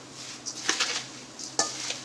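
Papad poha chivda mixture is stirred in a cooking pot. A spoon scrapes softly and clinks lightly against the metal a few times. The sound is quiet, close and free of talk.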